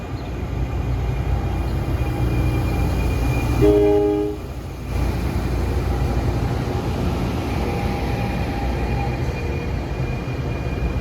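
The Princeton Dinky, an Arrow MU commuter train, rumbles steadily close by as it arrives, with a short sustained horn blast sounding midway through the continuous rail noise.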